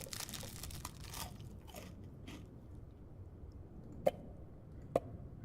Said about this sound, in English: We're gonna eat some crunchy stuff.